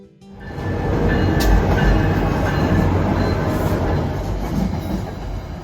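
A train rolls past about 60 feet behind a moored boat, its loud rumbling roar rising quickly and holding steady with a rhythmic rattle of wheels, easing slightly toward the end.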